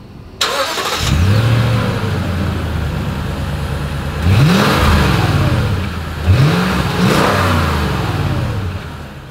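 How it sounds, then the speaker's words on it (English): A 2023 Lexus GX 460 V8 starts up and settles into idle, then its exhaust revs sharply twice, each rise and fall distinct and close, with no talking. "As always, here is that exhaust clip."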